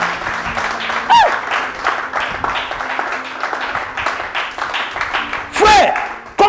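A church congregation applauds and cheers for Jesus, with steady crowd clapping throughout and louder swells near the start and end, mixed with voices.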